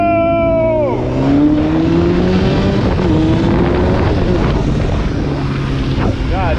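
A Honda CBR1000RR motorcycle revving hard at speed, the engine note sweeping down and back up through gear changes, loud and close, with wind rush and a rider's voice talking over it.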